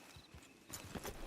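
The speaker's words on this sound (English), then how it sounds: "It's your horse." Horse hooves clip-clopping at a steady walking pace in Red Dead Redemption 2, close and clear, with a faint background ambience and a brief soft snort toward the end.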